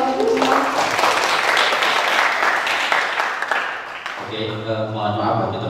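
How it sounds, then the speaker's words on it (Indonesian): An audience at an Indonesian literature-and-disability forum applauds a performer. There are about four seconds of full, steady clapping, which then cuts off as a voice begins speaking. "Tepuk tangannya mungkin Bapak."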